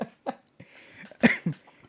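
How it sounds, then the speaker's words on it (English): A person getting over a cold gives a few short, close coughs and throat-clearing sounds in quick succession, loud and dry, with no talking. "I'm still getting over this cold, so I'll get a little cough."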